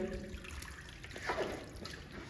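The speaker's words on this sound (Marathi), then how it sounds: "पाणी भरण्याची प्रोसेस चालू आहे. स्वच्छ पाणी विथ फिल्ट्रेशन." Clean filtered water fills a bottle outdoors on a fort trek, a soft continuous trickle that runs steadily and faintly throughout, with no talking over it.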